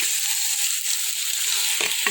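Onions frying in a pan for a village-style fish curry give a loud, continuous close sizzle, with a few scraping stirs near the end and no talking.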